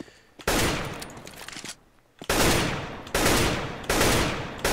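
AK rifle gunfire in a first-person shooter video game, a few loud separate bursts of shots with short pauses between them, with no talk over them.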